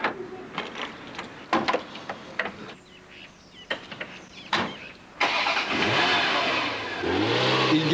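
A Ferrari 348 TB sports car gives a few sharp, separate clicks and knocks, then its engine starts and revs in a loud, sustained, rising roar that carries to the end.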